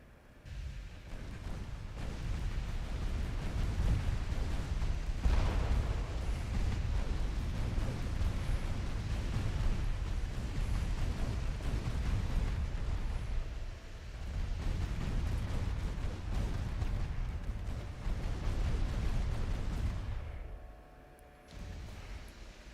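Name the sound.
battleship guns firing in video game Ultimate Admiral Dreadnoughts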